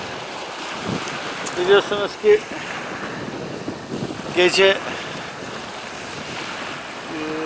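Strong wind buffets the microphone and waves break on a shore at night during cold-weather surfcasting, a rough, constant roar with someone speaking briefly over it.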